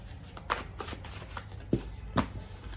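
Tarot cards are shuffled close up, a series of soft papery slaps and riffles with a few sharper taps, fairly quiet and without talk.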